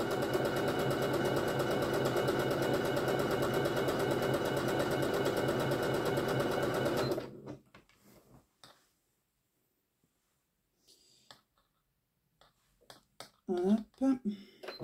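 A sewing machine stitches fabric in a rapid, steady, loud mechanical run for about seven seconds, then stops, leaving near silence broken by faint handling clicks and brief talk.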